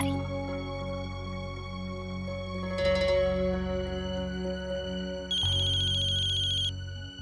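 An electronic telephone ring repeats in steady, evenly spaced tones, with a brief higher chirp near the end.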